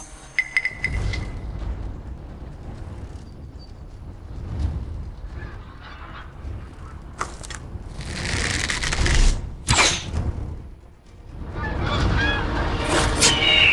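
Bird honks sound in bursts over a busy background, with a couple of loud sharp calls in the middle and more honking at the end.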